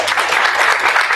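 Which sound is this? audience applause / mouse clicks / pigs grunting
audience applause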